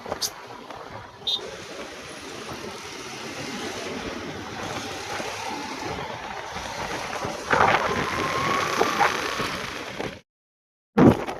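Strong gusty wind roars under darkening skies ahead of a storm, a broad continuous rush that swells and buffets the microphone, briefly dropping out near the end before returning.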